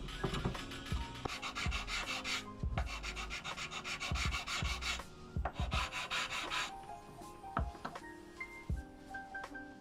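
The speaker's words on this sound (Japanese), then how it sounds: "ボンドが乾いたら飛び出ている部分をカットし、豆カンナ紙やすりで面を合わせていきます。" Small block plane and sandpaper work glued wood flush on a vintage guitar under restoration, giving repeated rasping, scraping strokes in quick bursts, close and steady, with no voices.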